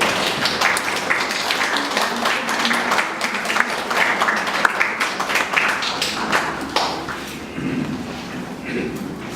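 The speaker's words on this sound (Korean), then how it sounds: "여러분 큰 박수 부탁드립니다." Audience applause for presenters at a dance-industry academic symposium in Jeollabuk-do, a dense burst of clapping from a seated crowd that gradually thins and fades, with a voice speaking toward the end.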